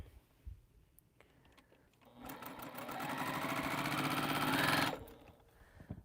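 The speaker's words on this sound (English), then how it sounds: "we're going to sew 1/4 inch seam here" A sewing machine stitches a quarter-inch seam on a quilt with an Africa map design, running steadily for roughly two and a half seconds and gaining speed before stopping, close but fairly quiet, with no voices.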